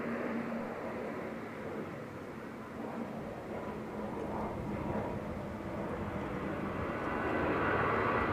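An airliner in Vueling livery departing Barcelona El Prat airport gives off a steady, distant, broad engine roar that swells slightly toward the end, with no voices.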